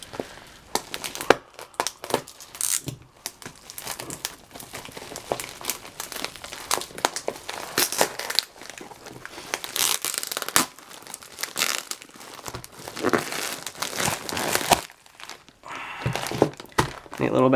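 A plastic baggie crinkles and crackles while a package is unpacked, with irregular rustling bursts and occasional thunks over nearly eighteen seconds, close and moderately loud.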